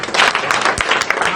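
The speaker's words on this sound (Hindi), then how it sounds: "एक बार जोरदार तालियां।" Short, loud burst of crowd applause at a public gathering in Uttarakhand, with rapid overlapping claps and some voices underneath.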